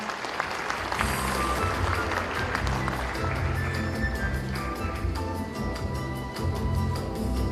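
Steady, dense applause from a forum audience welcoming a vice minister to the stage, continuous crowd clapping with music playing underneath throughout.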